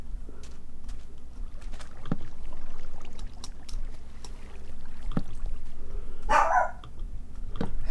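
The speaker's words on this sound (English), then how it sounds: "And with dog in real life barking." A dog barks a few times in real life, each bark short and sharp, over steady game sounds from a Minecraft LAN session with a boat on water.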